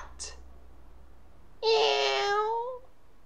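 A voice imitates a black cat, giving one long, drawn-out meow after a short, high squeak, over a quiet background.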